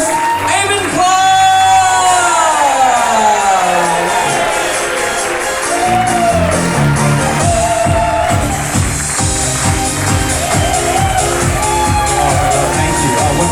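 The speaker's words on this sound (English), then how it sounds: "Keep that round of applause going for your host, Aimon Clark!" An audience at a live show in Sydney applauds, whoops and cheers for the host, a sustained, loud crowd roar mixed with music playing throughout.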